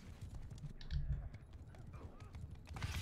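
Horse hooves clip-clopping in the video game Mount & Blade 2 Bannerlord, a steady galloping patter under a continuous game background, with someone talking over it.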